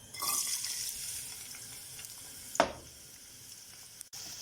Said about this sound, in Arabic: كده ضفنا البصل، نشوحه شويه صغيرين بس يبقى لونه كده